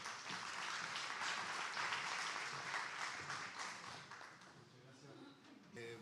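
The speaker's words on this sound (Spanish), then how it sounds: "muchas gracias por esos aplausos" Audience applause at a talk on living longer and better, a dense sustained clapping from a hall crowd that fades slightly toward the end.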